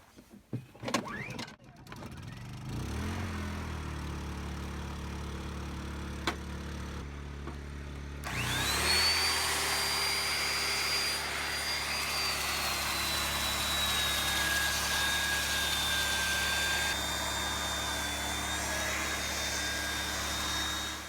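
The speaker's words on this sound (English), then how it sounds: "I'm gonna go ahead and use the belt sander to make that all one face." A belt sander starts up after a few quiet seconds of handling noise, then runs steadily nearby sanding a wooden threshold, with a high motor whine and a rough, grinding hiss.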